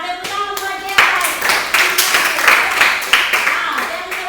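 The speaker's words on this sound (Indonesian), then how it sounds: "tepuk tangan buat Gerald" A class claps hands for a student named Gerald during a religious education lesson, a lively burst of clapping from many pupils lasting several seconds, with some voices mixed in.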